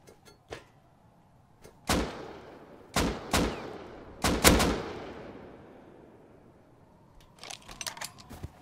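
Gunfire in the survival game Rust: several separate loud gunshots spaced about a second apart, each with a long decaying echo, followed by a quicker cluster of softer shots near the end.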